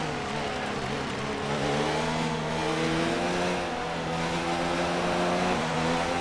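A Formula 1 race car in the F1 2019 racing game accelerates with a steady, high-pitched engine whine that climbs and holds, loud and continuous with no talk over it.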